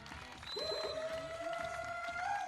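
A beach volleyball crowd in Edmonton, Canada roars continuously for the home Canadian side at a men's gold medal match, with a whistle-like tone rising above the dense cheering and clapping.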